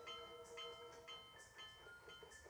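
Train in the Yoshi's Crafted World video game, rolling steadily with rhythmic clacking and bright repeating chime-like tones, fairly close and alone without talk.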